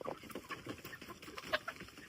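Farm-raised chickens cluck and call in short, irregular bursts close by, the fowl sounds overlapping and sharpening into a louder squawk near the end.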